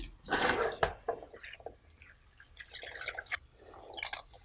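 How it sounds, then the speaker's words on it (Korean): Blanched mugwort squeezed by hand to wring out water, giving soft wet squishing and dripping sounds, close and faint, in a few short bursts. "요거를 꼭 물기를 짜주십니다. 수분기를 꽉 짜주시고"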